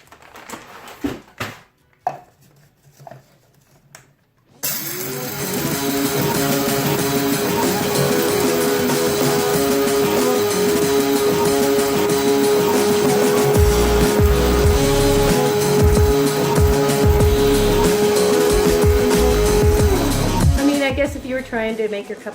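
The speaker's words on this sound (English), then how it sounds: "So we're just going to do your basic coffee grinder, because you know what? It gets the job done." A basic electric coffee grinder grinds whole coffee beans in one loud, steady whirring run of about fifteen seconds, close up, with brief handling clatter before and after.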